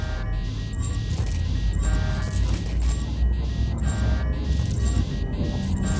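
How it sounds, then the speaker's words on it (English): A ship's frameshift drive charges in the space game Elite Dangerous, a loud, layered electronic hum with rising tonal pulses repeating roughly every second over a deep, constant rumble. "Frameshift drive charging."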